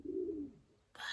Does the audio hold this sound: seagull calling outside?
yes